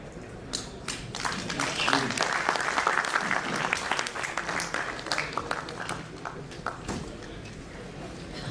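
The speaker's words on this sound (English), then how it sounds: "so I think Ashish deserves a very big round of applause for such an informative session" Audience applause at a capital market conference, a sustained round of clapping from a seated crowd in a hall, steady for several seconds before tapering off.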